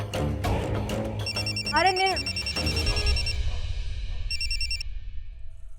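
An electronic telephone ringtone trills in two bursts of repeated high, beeping tones over a domestic scene, with a brief spoken exclamation and background music underneath.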